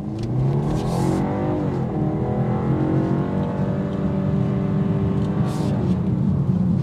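A 2025 BMW 430i Gran Coupe with the turbocharged B48 engine accelerates hard, its engine note climbing steadily and loudly in a continuous rising drone throughout, with no talking.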